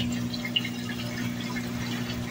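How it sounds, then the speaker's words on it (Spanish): A Whirlpool electronic tower-style washing machine pumps out its water, a steady low hum with a continuous watery rush running through the whole stretch, fairly close and even in level, with no talking. "Pues ya está botando el agua ahora."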